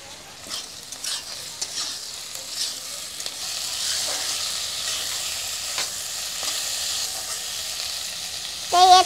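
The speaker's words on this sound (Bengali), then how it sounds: "এখন দিয়ে দেবো টমেটো কুচি।" Chopped tomatoes sizzle in hot oil with softened salted onions, and a spoon stirs through them in scraping strokes. The frying is close and moderately loud, and a metallic clink comes at the end.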